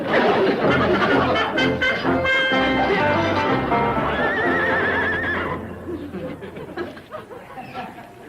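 A horse neighs loudly and shrilly with a long whinny, while hooves clip-clop and people laugh and chatter in the background; the sound fades after a few seconds.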